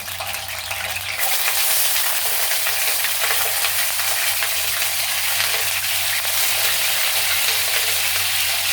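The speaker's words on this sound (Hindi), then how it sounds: "तवे को अच्छी तरह से आप तर कर लें घी से। अब हम ये जो चिकन है हमारे पास ये इसमें रखेंगे।" Chicken pieces laid on a ghee-coated tawa burst into a loud, steady frying sizzle that starts about a second in and holds at close range.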